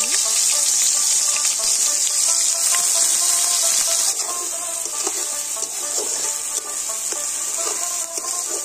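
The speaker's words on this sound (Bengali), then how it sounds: "পেঁয়াজগুলো দিয়ে হচ্ছে আমাদের ভেজে নেওয়া হচ্ছে" Onion paste frying in a pan for a village-style prawn malai curry, a steady, loud sizzle that holds evenly throughout with faint clinks of stirring.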